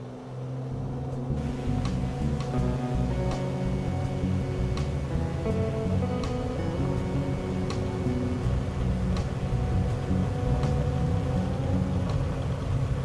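Steady, loud aircraft engine drone from a plane accelerating down the runway for takeoff in Microsoft Flight Simulator, a continuous rumble with faint ticking, no talk.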